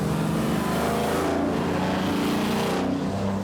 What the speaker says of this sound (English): They make a great sound and roar when you stand on them.